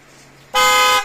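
A newly installed, louder horn on a four-wheeled vehicle gives a single steady honk of about half a second, loud and close, after a quiet moment.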